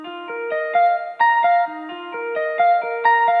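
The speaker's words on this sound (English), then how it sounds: "Playing with that sound is this guitar melody" Guitar melody played through Omnisphere layers, a smoked lap steel patch blended with a jazz guitar, picking out sustained tonal notes in a stepping, repeating phrase with a bright, eq'd top and no voices.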